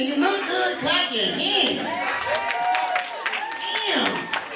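Women in a comedy club audience at a grill venue clap their hands, loud, scattered bursts mixed with whoops, cheers and shouting across the room, while a voice talks over the crowd.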